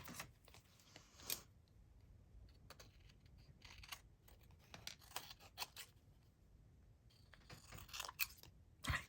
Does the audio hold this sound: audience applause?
no